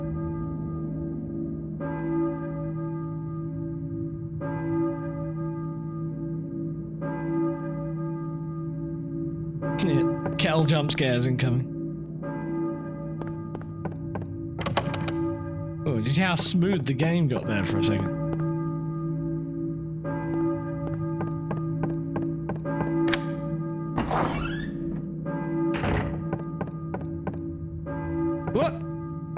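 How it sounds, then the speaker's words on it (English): A church bell tolls repeatedly in a steady, resonant rhythm inside the video game Silent Hill 1, its ringing tones sustained over a low drone while a person talks over it. "I hear a church bell, maybe."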